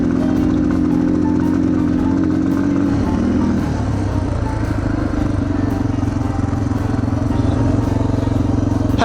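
A Yamaha TTR230 dirt bike runs on a trail with a steady, buzzing single-cylinder idle that shifts slightly partway through. The engine stays loud and close the whole time.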